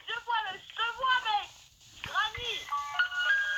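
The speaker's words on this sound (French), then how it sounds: "tu peux baisser ton son sur le portable là parce qu'il fait trop de bruit" A phone plays loud, bright electronic melodic sounds in bursts, with short pauses between phrases.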